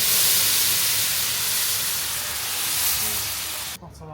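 Lamb chops hiss and sizzle loudly in a hot pan at a restaurant, a dense steady frying roar that cuts off abruptly near the end.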